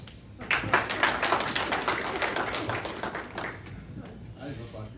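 Audience of lodge brethren claps after a Golden Trowel presentation at a Masonic meeting, a ragged burst of many hands that builds quickly, holds for a few seconds and then thins out to a few last claps.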